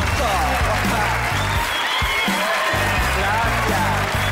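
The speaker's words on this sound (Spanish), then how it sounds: "¡Un aplauso!" Studio audience on a Colombian television variety show applauding a reality contest winner, a continuous crowd clapping mixed under loud music and a voice over the top.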